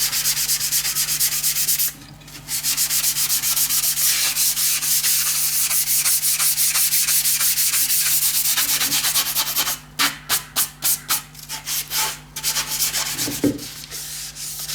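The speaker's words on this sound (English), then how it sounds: "what I'll do now is sand this back using one of these ultra fine sanding sponges." Painted wooden clock parts are rubbed down with an ultra fine sanding sponge in steady, continuous strokes, breaking into quicker, distinct back-and-forth scrubs near the end, close and fairly loud with no talking.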